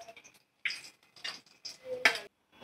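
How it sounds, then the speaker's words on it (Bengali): Fried eggs and potatoes for a biryani are moved into a pot, with a few short clinks and scrapes of a utensil against cookware, close and fairly quiet, in bursts separated by brief pauses. "দেখো, আমি এগুলো তুলে রাখছি একটা পাত্রে।"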